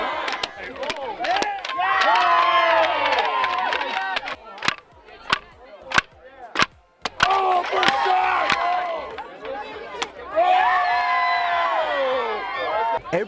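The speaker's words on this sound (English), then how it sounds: "Every camper breaks through a board to the uproarious cheering of their peers and camp staff" Campers and camp staff cheering and yelling in bursts as a camper breaks through a board, with a series of sharp slaps or claps in between and excited voices shouting throughout.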